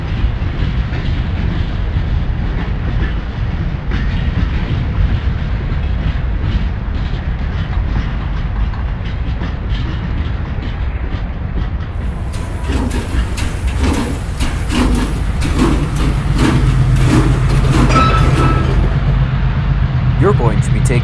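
Union Pacific freight train, circa 1941, hauling refrigerator cars along open track, giving a steady loud rumble with rhythmic rail clatter throughout and brighter metallic clanking in the later part.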